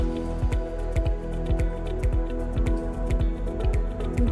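Water drips from a home water filter in quick, regular drops about twice a second, each a close, clear plink over a steady low hum.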